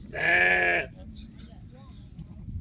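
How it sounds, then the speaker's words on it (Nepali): A single loud sheep bleat, drawn out for under a second, followed by quieter background noise and faint voices, in Nepal. "भेडा हो दाइ भेडा र बाख्रा"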